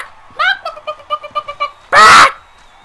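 A person's voice tries to imitate a chicken but comes out as nasal, duck-like quacks: a rapid run of about eight short honks, then one loud, harsh, drawn-out squawk, close and alone.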